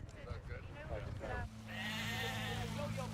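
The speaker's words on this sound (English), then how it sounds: "There are sheep, and there are fields" Sheep bleating in a field, several wavering bleats near and at moderate volume, with people talking over the first half.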